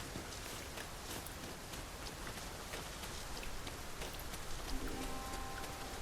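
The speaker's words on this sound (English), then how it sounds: "Está lloviendo en el desierto" Steady rain falling across a desert in the video game Dragon's Dogma 2, a dense, even hiss of drops on surfaces that holds without a break at moderate volume, with no talk over it.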